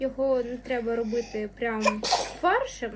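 A single sharp sneeze bursts out mid-sentence from someone nearby during a home tartare-cooking session, surrounded by steady talking before and after.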